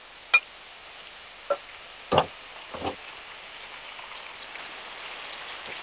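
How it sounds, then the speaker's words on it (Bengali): Fried chicken with cumin powder and Kashmiri chili powder sizzles in a pan for a restaurant-style chicken curry, giving a steady crackling hiss broken by a few sharper clatters and spatters, with no talk. "এবার খুব ভালো করে একসাথে মিক্সড করে কষে নেব।"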